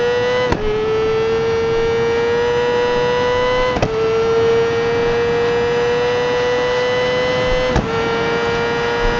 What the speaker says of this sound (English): Listen to the upshift.